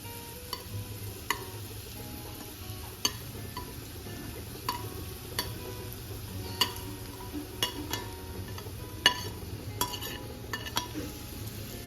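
Grated sweet potato and roasted cashews and almonds stirred over a medium flame for a fasting-day sheera, with a steady low sizzle and scattered scrapes and clinks of a spoon against the pan throughout, no voices.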